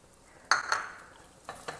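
Ground roasted rice being stirred into mushroom thoran in a pan, a few quiet scraping strokes with a soft sizzle beneath, close and faint, no talking.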